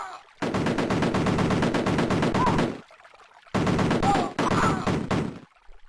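Rapid bursts of gunfire from the Amiga game Cannon Fodder crackle loudly in two long volleys, split by a short silent gap, with no voices.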